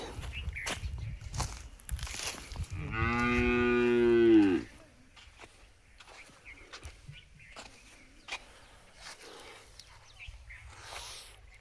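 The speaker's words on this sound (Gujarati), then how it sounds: "તો આ બધા આપણા ઢોરાય" On a farm, a cow lets out a single loud moo of about a second and a half, standing out clearly above quiet background rustling, faint footsteps and occasional bird sounds.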